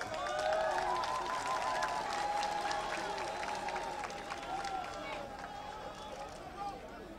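Huge, dense crowd at a political rally in Libreville, a steady roar of cheering and clapping that fades slightly over time, with a voice talking over it.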